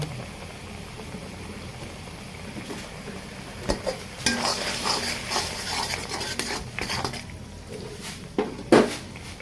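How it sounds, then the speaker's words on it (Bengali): Spices for a beef white-liver bhuna fry in a pan with green chillies, a steady close sizzle under repeated scraping stirs and clinks of a spatula against the pan, with a few sharper knocks near the end. "5 মিনিট মশলাটাকে ভালো করে কষিয়ে নেব।"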